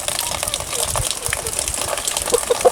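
Water pouring into a chicken drinker, a close, steady splashing gush with soft gurgles and a few brighter bubbling drips near the end, alongside faint background voices.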